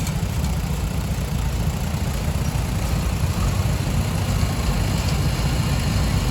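A small diesel 550 utility tractor with original paint idles at a classic tractor show, a steady low rumbling drone held evenly throughout at fairly loud level.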